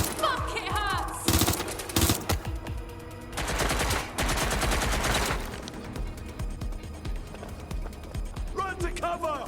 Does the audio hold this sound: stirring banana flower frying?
no